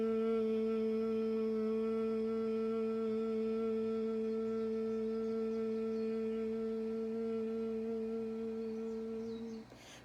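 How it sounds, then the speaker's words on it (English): Bee's breath from yoga: one long, steady nasal hum on a single low pitch, sustained through a slow exhalation for about ten seconds, close and soft, with no other sound. "One of my favorite breaths that I've taught in yoga is called bee's breath."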